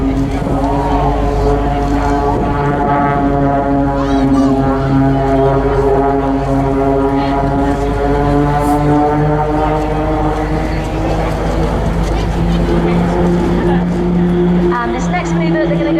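An aerobatic display aircraft sweeps past at the 2017 Southport Airshow with a steady, droning engine that shifts slightly in pitch. Announcer commentary plays over it throughout.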